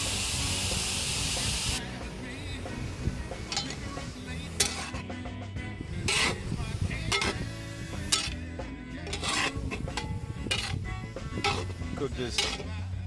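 Onions cooking in a pot for Cajun boudin, a steady hiss and steam with scattered clinks of a utensil against the pot, while a person talks over it.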